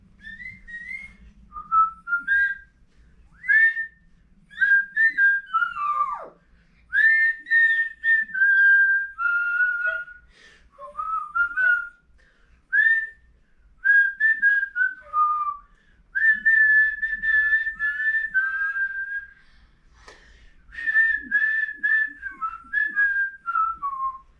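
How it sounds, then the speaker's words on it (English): A person whistles the Mr. Sun song melody at a library storytime, with clear, bright tones in short phrases separated by brief pauses, performed solo and close with no talking. "if you're a whistler, you could do a whistle version"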